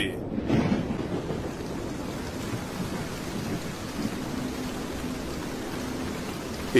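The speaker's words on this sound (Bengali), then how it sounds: "বলতে বলতে বৃষ্টি শুরু হয়ে গেল" Steady heavy rain pours down continuously, a dense hiss with a low rumble underneath, with no voices.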